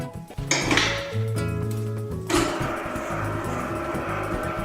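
A bakery mixing machine working Chelsea bun dough, with metallic clanks and knocks as the bowl is set in, then a continuous mechanical whirring churn.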